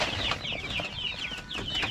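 Hungry Rhode Island chickens cluck and peep in quick, overlapping bursts close by, a fairly quiet but continuous flock chatter.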